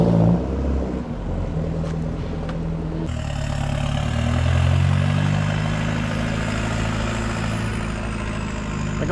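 A loud, steady engine rumble with a deep, throaty roar that surges and swells as a Volkswagen TDI diesel car revs close by, rolling coal.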